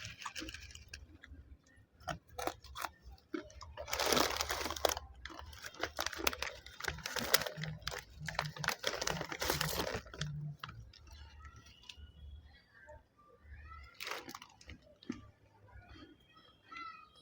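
Crunchy seeni mittai, a sugary sweet from a roadside shop between Madurai and Thoothukudi, is chewed close up with repeated sharp crunches and bites in an irregular rhythm over a quiet background, with occasional clicks.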